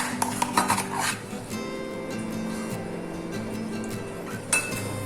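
A homemade ice cream base mixed with crushed biscuits is whisked in a bowl, starting with a quick cluster of close, bright clinks and then settling into a quieter steady background, with one more clink near the end.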